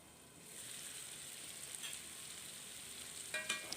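Small fish braising in oil in a pan for a Bengali-style dish, a soft, steady sizzle that rises after a moment, with a few brief scraping stirs near the end and no talking.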